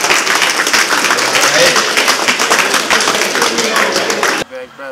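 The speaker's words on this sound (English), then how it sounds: "Y'all clap it up for him" A battle rap league crowd bursts into dense, loud applause and clapping that carries on steadily for several seconds before stopping abruptly, with someone talking at the end.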